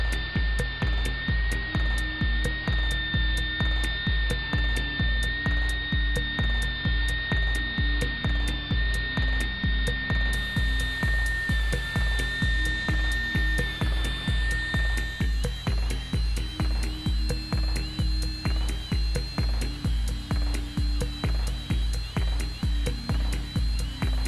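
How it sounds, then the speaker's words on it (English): Router table with a pattern bit shaping wooden table components: a loud, continuous high-pitched motor whine with steady rhythmic pulsing throughout, the tone shifting slightly partway through as the cut changes. "Then we're going to go onto the router table and using a pattern bit,"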